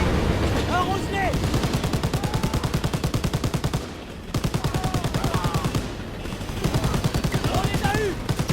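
Sustained automatic gunfire sprays enemies in a World War II video game set at Falaise, France, in 1944, steady rapid bursts with two short gaps, and faint chirping and whistling sounds over the shots.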